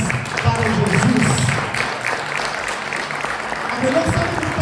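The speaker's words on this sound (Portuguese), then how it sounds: "dê uma salva de palmas para Jesus" A church congregation claps for Jesus during an evening service, steady applause filling the room, with voices mixed in and a brief dip midway before it swells again.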